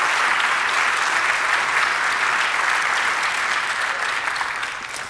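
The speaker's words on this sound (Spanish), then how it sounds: "Denle un aplauso fuerte a nuestro Dios." A church congregation breaks into loud, sustained applause, a dense wash of clapping holding steady from start to finish before tapering a little at the very end.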